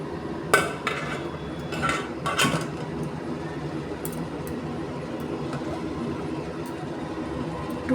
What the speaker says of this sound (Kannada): ಕುಕ್ಕರ್ದು ಲಿಡ್ಡು ಕ್ಲೋಸ್ ಮಾಡ್ತಾಯಿದ್ದೀನಿ.